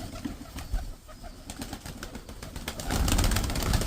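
Pigeons coo and rustle close by amid scattered flapping and shuffling, with a rising wash of noise toward the end.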